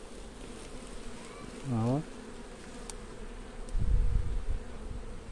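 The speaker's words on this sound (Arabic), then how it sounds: "محدش عارف يدخل معايا الخليه هنا عشان النحل" Honeybees hum steadily inside an open hive during a beekeeper's inspection, a close, continuous buzz running under the whole stretch, with a brief spoken word and some handling thumps near the end.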